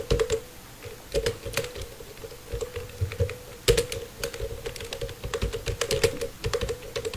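Steady typing on a computer keyboard, irregular quick clicks and clacks, close and clear over a faint constant hum, with no talking.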